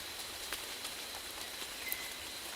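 Heavy rain pours steadily at night in a wooded park, a dense, even hiss of downpour with scattered drop patters, moderately soft and continuous, with no voices.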